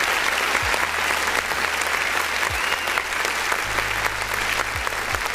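Steady, dense applause from a crowd, a continuous wash of clapping over a low background hum during a live music stream, with no break across the stretch.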